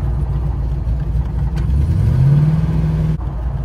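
A car with a broken transmission revs in second gear, a continuous engine drone rising into a held whine for over a second before it cuts off abruptly.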